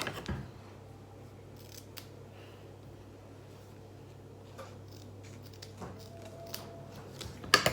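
Scissors snip through clothing tags and packaging in a quick run of short, crisp cuts at close range over a low steady hum, with no talk during the cutting.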